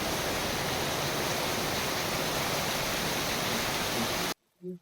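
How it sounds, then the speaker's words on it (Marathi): Heavy monsoon rain falls near a house in Konkan as a dense, steady hiss that fills the scene, then cuts off abruptly near the end, leaving a short faint sound. "हा यांच्या घराजवळचा पाऊस बघा मित्रांनो"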